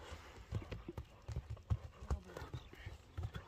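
A horse's hooves clip-clop in an irregular series of close, dull knocks as the animal is shown for sale, with voices talking quietly in the background.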